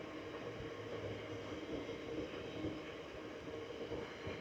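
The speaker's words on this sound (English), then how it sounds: "this is the second train I've seen in 10 minutes" A train rolls past steadily at close range near Bole Fields on the way to Gainsborough, its wheels and carriages giving a continuous broadband rumble with faint rhythmic clatter, loud and unbroken through the whole stretch with no talking.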